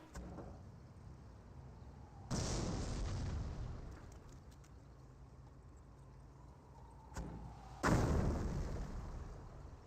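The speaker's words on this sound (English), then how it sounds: "More mortars hitting the ground." Two mortar shells slam into the ground in the World War II strategy game Company of Heroes, each a sudden heavy boom with a rumbling tail, heard several seconds apart over a quiet battlefield background.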